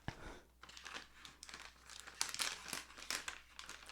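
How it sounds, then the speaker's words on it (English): A throat lozenge wrapper crinkles close and crisp, with dense irregular crackles and brief tearing rustles continuing throughout at a fairly quiet level. "That's loud. Ooh. Loud crinkles."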